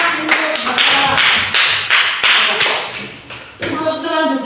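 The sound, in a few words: applause for a student in class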